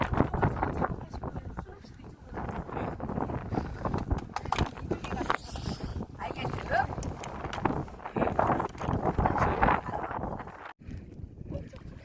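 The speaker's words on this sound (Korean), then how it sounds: "아, 네, 바람이 세서" Strong gusty wind buffets the microphone on an island coastal walk, producing continuous loud rumbling and flapping noise throughout, with voices talking partly under it.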